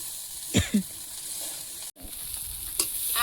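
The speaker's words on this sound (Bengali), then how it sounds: "এই আলুগুলো দিয়ে একটু ভেজে নেব" Potato pieces fry in a pan with a steady soft sizzle and a couple of stirring scrapes, heard close and alone with no voices.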